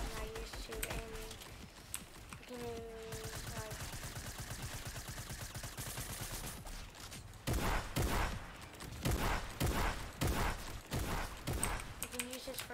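Gunfire in the video game Fortnite, bursts of weapon shots that grow louder and denser in the second half, mixed with game sounds and a voice talking throughout.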